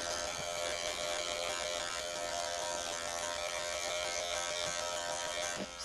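Wahl hair clippers fading up the nape against the grain, a steady close electric buzz with a constant motor hum that runs unbroken, without speech.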